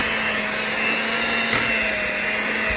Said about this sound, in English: And do a little more mixing.